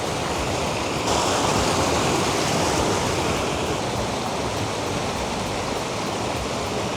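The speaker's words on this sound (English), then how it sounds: "I can hear the waterfall." A constant loud rush of falling water, broad and hissing, roars unbroken with no voices over it.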